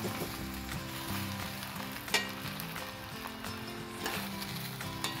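Oil tempering sizzles steadily for Gujarati methi muthiya dhokla, a continuous crackling hiss with an occasional sharper pop, close and fairly loud with no talking.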